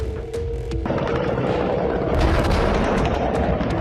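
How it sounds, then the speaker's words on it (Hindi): A heavy, rumbling blast with dense low-end roar, loud and sustained, swelling midway with crackling debris-like noise. "एक विस्फोट से पृथ्वी में जलजला उठा देने वाला विध्वंस का नाम"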